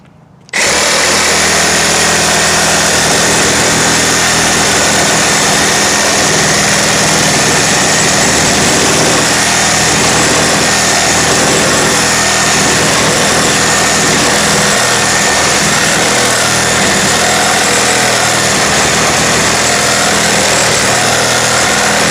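Milwaukee M18 Fuel Super Sawzall reciprocating saw in orbital mode at speed setting 3 cutting moist wood, a loud steady motor buzz starting abruptly and continuing unbroken throughout.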